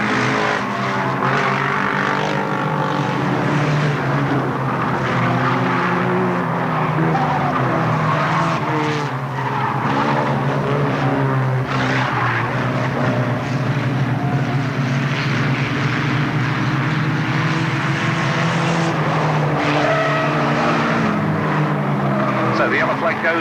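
Race cars at Alwalton Raceway in 1983 roar continuously at close range, engines droning and rising as they pass, while a commentator talks over the noise throughout.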